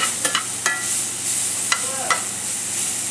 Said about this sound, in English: The shallots and mushrooms are both pretty fragile, so they will burn quickly. Basically keep moving them.